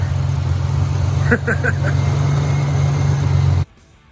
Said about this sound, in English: it seems to be running pretty good. Letting it warm up, make sure everything's good.